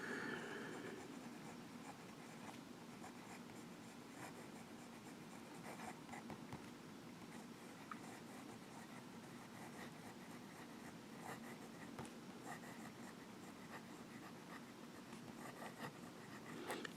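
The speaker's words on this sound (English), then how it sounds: "you can get a different line variation with reverse writing, but it's very light" A Monteverde Aldo Domani fountain pen writes in reverse on paper, a continuous faint close scratching of nib on paper with no talking.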